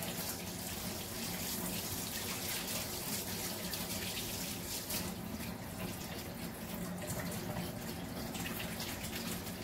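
Water runs steadily from a kitchen tap, a continuous close splashing stream with no speech over it.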